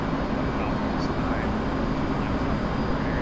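Aircraft taking off in the DCS flight simulator game, a steady broadband engine roar, loud and unbroken throughout the short stretch.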